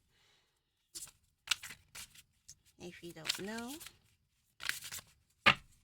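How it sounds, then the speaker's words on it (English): Playing cards are shuffled by hand in a quiet room, giving a few short, soft riffling bursts separated by pauses, with a person speaking briefly between them. "This is how I shuffle my cards."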